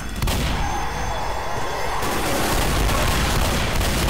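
Thrown propane tank exploding in Left 4 Dead: a loud, close blast followed by sustained roaring, crackling debris noise amid chaotic gunfire, continuing dense to the end.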